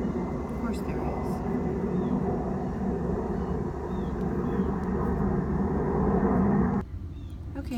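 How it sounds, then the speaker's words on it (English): An airplane passes overhead as a steady, broad low rumble that fills the whole stretch, fairly loud and constant, dropping off sharply near the end; a person talks over it. "Of course there's an airplane going by."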